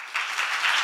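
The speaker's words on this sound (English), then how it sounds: "Please give him a big round of applause." Audience applause after a conference presentation at an international sports careers conference, a steady wash of many hands clapping that swells in quickly and continues.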